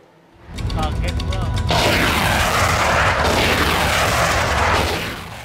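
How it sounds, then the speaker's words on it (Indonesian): Live-fire weapons at the Super Garuda Shield international military exercise, a dense continuous roar of booming explosions and gunfire that swells and holds loud for several seconds, with a voice briefly audible near the start. "pasukan gabungan menggunakan seluruh peralatan perang hingga amunisi tajam"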